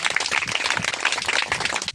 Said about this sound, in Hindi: जोर से ताली बजाएंगे इनके जीवन में।